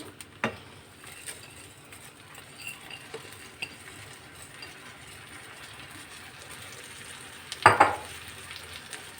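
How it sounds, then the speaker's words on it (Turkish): Baldo rice being toasted in melted butter in a pot, a quiet continuous sizzle with occasional stirring scrapes and a louder clatter of the spoon near the end. "Şöyle 5 su bardağı baldo pirincimi güzelce kavuracağım."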